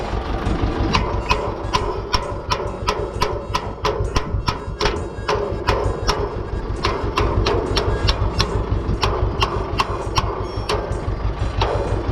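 Sharp metallic hammer blows ring out repeatedly on a bent tractor PTO shaft in a steady, fairly quick rhythm over a low background hum, close by and moderately loud.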